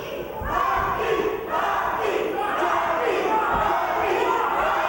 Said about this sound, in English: You can hear the crowd now fully behind Rocky.